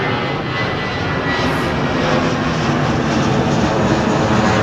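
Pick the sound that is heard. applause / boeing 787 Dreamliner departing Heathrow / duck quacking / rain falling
boeing 787 Dreamliner departing Heathrow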